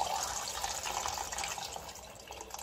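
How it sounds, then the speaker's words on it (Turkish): Water is poured into a pot of beans being cooked with meat, a steady broadband splashing and trickling that runs continuously and fairly close, with no talk. "Şimdi biraz haşlamış olduğum sudan biraz da normal su ilave ediyorum"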